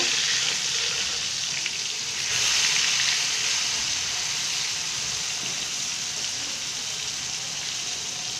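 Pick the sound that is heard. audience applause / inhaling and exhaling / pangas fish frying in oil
pangas fish frying in oil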